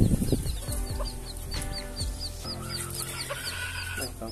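A flock of eight young jungle-hybrid chickens clucking and peeping near at hand, a busy overlapping chatter of short calls with a few louder clucks.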